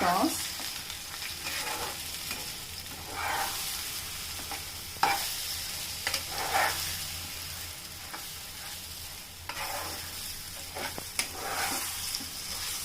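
A patoli mixture is tossed and stirred in hot oil in a home kitchen, giving a soft continuous sizzle with occasional scraping and stirring bursts, fairly quiet and without talk.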